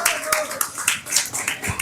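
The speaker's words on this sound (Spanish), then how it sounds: "Aplausos para él, por favor." An audience at a school presentation event gives a student a brief burst of clapping, with a few voices mixed in.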